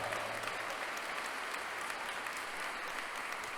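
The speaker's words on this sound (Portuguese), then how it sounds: "Salva de palmas para o poeta." An audience at a happiness congress lecture applauds a poet, a steady, even wash of clapping from a large crowd, moderately faint and continuous with no speech over it.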